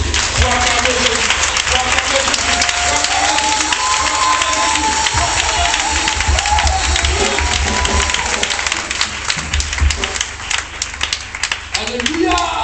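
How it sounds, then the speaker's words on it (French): Church congregation at a worship service in Abidjan, Ivory Coast, applauding and cheering steadily throughout, a loud continuous wash of clapping with shouts, building near the end. "Est-ce que nous pouvons acclamer ce Dieu-là? Nous pouvons acclamer Jésus."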